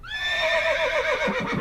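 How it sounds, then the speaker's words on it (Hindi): A horse gives one long, loud, close neigh that rises and then breaks into a shaky, fluttering whinny as it fades, with no talking. "घोड़ा हिनहिनाया"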